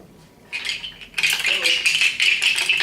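A handheld rattle shaken as a ceremonial imitation of buffalo hooves, bright clattering bursts that start softly then grow into a dense, steady shaking close up.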